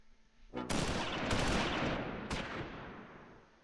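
Sustained burst of gunfire from the WWII tactical video game Close Combat IV, a dense rattling fusillade that starts abruptly, stays loud and steady for about three seconds, then fades.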